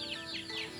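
A chicken clucking close by, a quick run of short, bright, rising calls over a steady background hum, lasting under a second.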